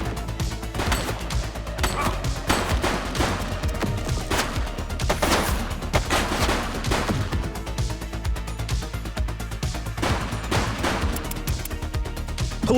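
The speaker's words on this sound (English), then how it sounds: "She's shooting!" Sustained gunfire in The Precinct police video game, a loud, dense stream of rapid shots and bursts that never lets up across the whole stretch, with crashes and pops mixed into the barrage.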